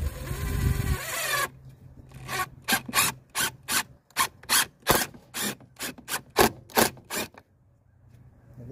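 Longer screws are driven down into the plastic body of a Peg Perego Power Wheels ride-on; after a brief rough scrape, about a dozen evenly spaced raspy grinding bursts follow in steady rhythm, close up.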